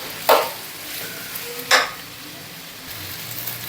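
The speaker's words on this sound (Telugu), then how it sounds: "ఇలాగా ఈ బెండకాయల్ని కలుపుకోవాలండి" Okra (bhindi) fry is stirred in a hot pan: two short, sharp scraping sizzles stand out over a quiet, low frying hiss.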